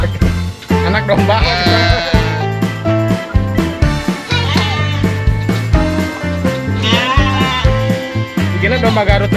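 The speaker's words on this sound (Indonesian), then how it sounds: "Nggak anak. Anak domba." A Garut lamb bleats in repeated, quavering calls, loud and close, with people talking nearby.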